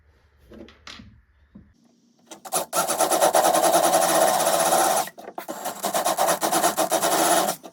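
A power drill bores into pine wood with a loud, steady whir after some quiet handling, pausing briefly, then running again.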